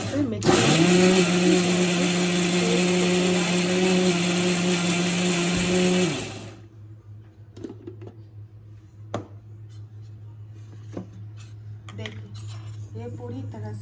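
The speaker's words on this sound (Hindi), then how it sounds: "अब मुझे मिक्सी में इसका पेस्ट तैयार कर लेनी है।" A mixer grinder whirs loudly and steadily while grinding lentil batter for medu vada, then cuts off after about six seconds, leaving quiet kitchen clatter and faint background sounds.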